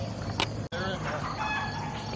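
Chickens in a backyard garden flock give clucks and bird calls, with a brief sharp squawk early and softer clucking and chirps afterward, over a continuous background hiss.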